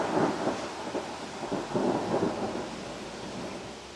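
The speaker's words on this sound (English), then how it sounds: "there is a huge storm rolling through" Thunderstorm with steady rain rolling through at Sandy Cape on Fraser Island, low rumbling thunder over a continuous hiss of rainfall.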